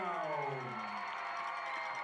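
A high school football crowd cheering a penalty call, a swelling roar of voices with whoops that holds steady and fairly distant across two seconds.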